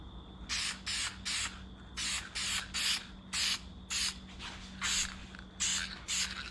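Black spray paint goes onto an antique VW Beetle license plate in a rapid series of short hissing bursts, about a dozen quick spurts with brief pauses between, close and clear without talk.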